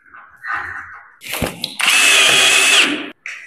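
A power drill drives a screw into an aluminium door hinge, with brief handling noises and then a loud, steady high whine for about a second before stopping, close by with no speech.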